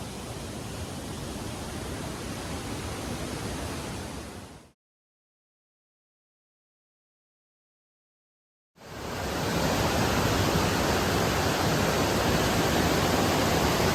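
Steady broadband rush of a flowing creek beside a hiking trail on the Appalachian Trail between Lincoln and Glencliff, loud and continuous, cut by a few seconds of silence before the water resumes even stronger.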